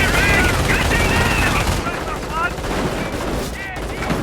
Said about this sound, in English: Fire on the enemy infantry!